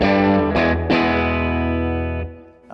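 Heavily distorted electric guitar chords ring out loud and sustained through a 20-watt tube amp with two 6L6 tubes, with two fresh strums before a long decaying tail.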